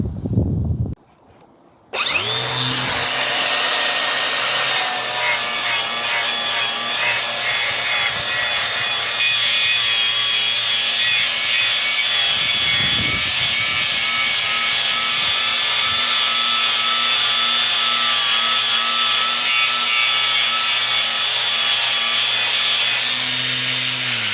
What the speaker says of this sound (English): the clean and strip wheel for me just works absolutely perfectly